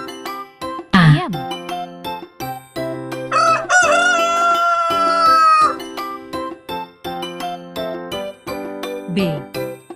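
A rooster crows once, loud and close, a long rising-falling call standing out over a steady, cheerful musical backing with chimes and jingles in a children's animal-sounds lesson.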